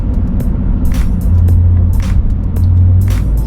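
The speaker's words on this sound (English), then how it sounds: "You hear the little turbos in there." A cheap twin-turbo BMW engine runs nearby with a loud, steady low rumble that swells twice into a heavier drone, with faint turbo hiss above.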